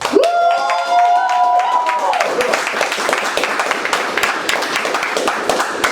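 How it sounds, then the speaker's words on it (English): A crowd at PMC Barbershop in Denton, Texas cheers and claps during a live podcast anniversary tour stop, with a loud whoop at the start giving way to dense, sustained clapping. "Crowd, make some noise"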